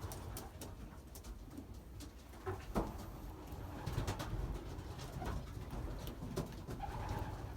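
Belgian racing pigeons, young birds kept in a loft, coo softly and repeatedly amid faint rustling and scattered knocks, a low steady background with no talking.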